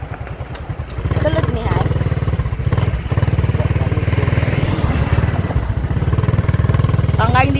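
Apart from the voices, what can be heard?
motorcycle engine running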